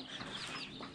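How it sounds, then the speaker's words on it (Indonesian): Chickens from a box coop cluck in a brief, dense, steady burst of overlapping poultry calls. "inilah ayam dari kandang box tadi"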